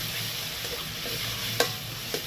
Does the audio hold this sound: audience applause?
no